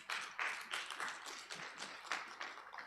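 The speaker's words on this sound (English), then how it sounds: "I think Marshall deserves a hand clap." A small audience at a workshop giving a brief round of hand claps, a few distinct uneven claps close by that quickly die away.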